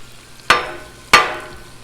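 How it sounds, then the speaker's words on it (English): Tortillas on a Blackstone griddle give two sharp, brief sizzling hisses about half a second apart, close and loud, each fading quickly into quiet between them. "I'm gonna give these tortillas a little flip"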